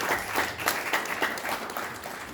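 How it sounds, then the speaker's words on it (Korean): An audience at a Korean-American forum in Orange County gives a steady round of clapping. The applause is dense and close, with crisp, evenly spread claps throughout. "총회장을 맡으신 이 김해창 총회장님께 감사의 박수를 하고"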